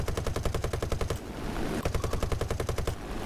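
A Vickers K machine gun fires from the gunner position of a Blenheim Mk IV in War Thunder, in two rapid, evenly pulsed bursts separated by a short pause under a steady engine drone.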